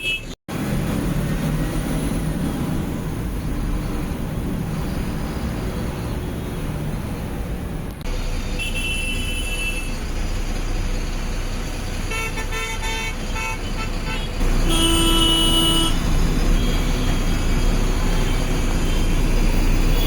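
Dense Chennai road traffic rumbles steadily while several car and bus horns honk in short bursts and longer blasts, growing louder toward the end.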